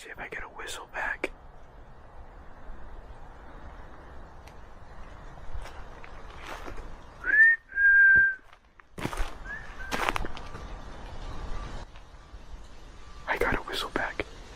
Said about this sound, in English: I got a whistle back.